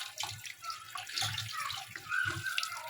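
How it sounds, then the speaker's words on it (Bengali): Tap water running into a sink while a fish is rinsed, a soft steady splashing stream with uneven bursts as the fish is moved under it, fairly quiet and close with no talk. "এবার মাছটাকে ধুয়ে নেবো।"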